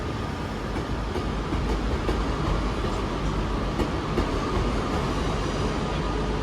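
Class 150 diesel train departing Manchester Piccadilly for Buxton, a steady broad rumble of engine and wheels heard at moderate distance, with faint rhythmic rail clicks throughout.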